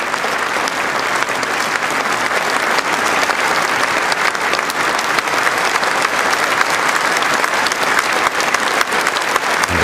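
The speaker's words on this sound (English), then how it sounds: "The Queen once again acknowledges the applause" A crowd applauds the Queen at her 2012 Diamond Jubilee address with sustained, dense clapping that stays strong and even for the whole stretch.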